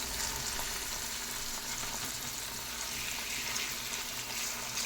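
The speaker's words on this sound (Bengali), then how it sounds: "হালকা ভাজবো আর তারপরে ঢাকা দিয়ে রেখে দেব" Ginger paste, chopped green chili and tomato fry in a pan with a steady, even sizzle that stays moderately loud throughout and has no voices over it.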